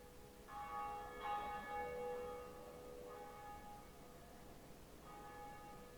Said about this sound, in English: I think we are going to go ring a bell for ourselves.